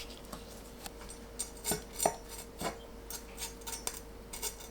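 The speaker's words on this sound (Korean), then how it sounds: "씨 제거한 홍고추는 채 썰어줍니다." A knife julienning deseeded red chili on a cutting board: quiet, irregular taps and clicks, some in quick pairs, over a soft steady background.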